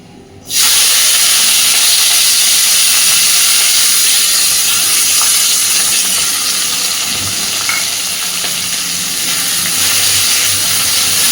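Chopped onion, tomato and slit green chillies with black cumin fry in hot oil, a loud, steady sizzle that starts abruptly and holds for about ten seconds, with occasional faint stirring scrapes and no voices.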